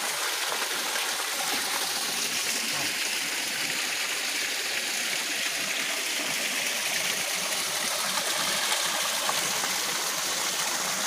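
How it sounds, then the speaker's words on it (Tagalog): A small waterfall rushes steadily with a constant, even splashing roar that never pauses. "May mini maliit na talon."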